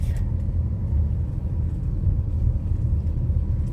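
A car cruises along a residential lakeside street, Fox Chase Drive in New Market, Maryland, in autumn, heard from inside as a steady low road rumble and engine drone without talk.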